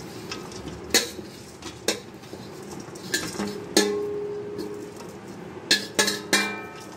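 Mango pickle is tipped into a sieve over a plate, giving sharp metallic clinks and scraping knocks at irregular intervals against a quiet room background, with faint birdsong in the distance.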